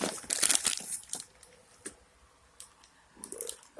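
Plastic packaging crinkles and crackles around a new MSD Street Fire billet distributor being unboxed, a dense burst of rustling up front, then scattered clicks and a final crinkle near the end.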